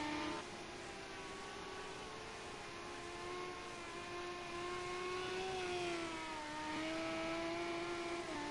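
Race car engines in Project Cars 2 at the Oschersleben circuit, a steady high-pitched whine that rises and falls as cars round the final chicane, with no talk.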